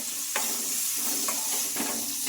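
Curry leaves crackle and sizzle as they hit hot oil in a frying pan, a steady bright hiss broken by a few short pops and a stirring scrape, close and fairly loud with no talk.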